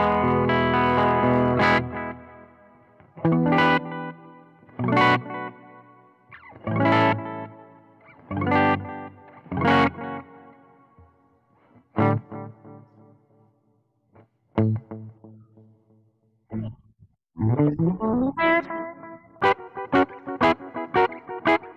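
Zemaitis guitar with humbucker pickup played through an Earthquaker Dispatch Master delay and reverb pedal: a series of ringing chords and single notes with long echoing tails, pauses between phrases, then a quicker run of bright plucked notes near the end.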